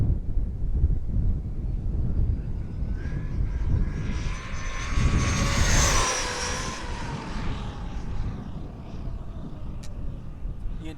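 A Traxxas Maxx RC truck on a 6S LiPo battery with stock gearing accelerates hard outdoors, its electric motor whine rising to a loud high-pitched peak and then fading as it passes, over steady wind rumble.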